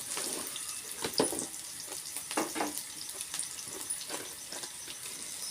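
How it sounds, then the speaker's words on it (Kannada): Cauliflower florets frying in oil for gobi manchurian, a steady close sizzle with bubbling crackles and occasional stirring scrapes, no talking. "ಇದು ಫ್ರೈ ಆಗುತ್ತೆ"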